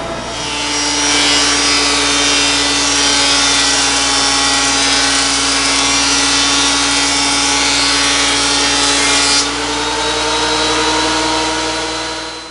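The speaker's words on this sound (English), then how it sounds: "Now that'll go face down through the planer, and the planer will take off this edge" A thickness planer machining the edge of a wooden board, running as a loud, steady, close whine with a broad cutting roar that drops off near the end as the board clears the cutter.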